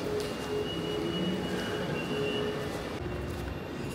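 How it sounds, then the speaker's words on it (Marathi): Metro train running at Pendhar station in Navi Mumbai, a steady rumbling hum with faint tonal whine, heard continuously from nearby with no voices. "आता आम्ही पेंद्रवरून मेट्रो ट्रेन पकडणार आहोत"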